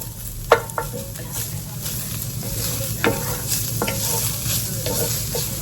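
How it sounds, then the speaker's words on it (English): Garlic and very lean meat sizzle steadily in a hot pan as a spoon stirs them, with scraping knocks at intervals over the continuous frying hiss, close and moderately loud. "I just want to get that garlic cooked a little bit."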